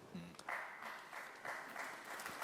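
Audience applause in a conference hall after a panel discussion on the global economy, a steady broadband wash of clapping that swells and holds for a few seconds at moderate distance.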